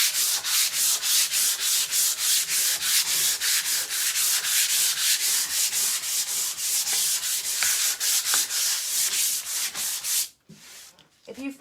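Rapid back-and-forth scuffing of 320 grit sandpaper over a painted wood surface with raised grain, steady rhythmic strokes close up and loud for about ten seconds, then a brief pause and a few lighter rubs.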